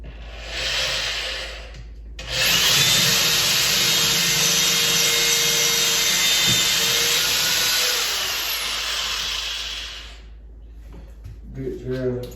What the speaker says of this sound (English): I'm putting all these holes in the wall